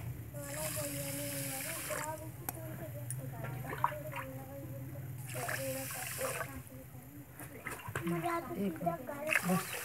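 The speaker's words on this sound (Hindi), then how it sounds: "कढ़ाई में हमने ये चीनी डाल ली आधा किलो अब इसमें हम पानी डालेंगे" Water is poured into half a kilo of sugar in a wok to make syrup for rasgulla, with soft splashing and trickling heard faintly under nearby talking, including a voice.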